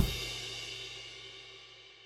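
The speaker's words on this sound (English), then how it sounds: "It's 2 strokes on the floor tom and then 1 on the crash." A rock drum pickup fill, two floor tom strokes followed by a crash cymbal, in the style of a rock groove, hits sharply at the start and then leaves a long, bright cymbal wash fading away.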